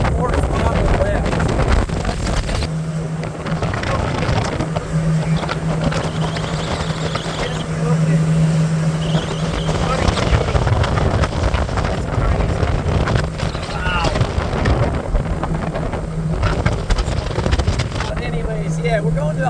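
Tahoe T16 boat powered by a 75 hp Mercury outboard running at speed near 45 mph, with a steady motor drone under heavy wind buffeting while someone talks over it.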